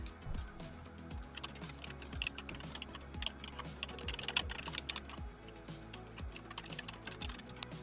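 Rapid typing on a computer keyboard as a text prompt is entered, a dense run of quick, light key clicks with irregular rhythm, close and fairly quiet, with no talking.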